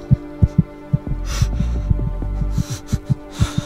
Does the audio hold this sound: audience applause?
no